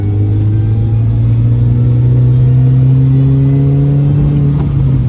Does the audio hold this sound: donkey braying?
no